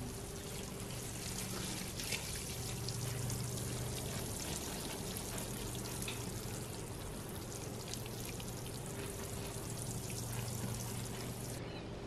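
Organic rainwater poured over freshly planted kūmara and cucumbers in a small home garden, a steady continuous splashing trickle that runs unbroken throughout at close range with no talking.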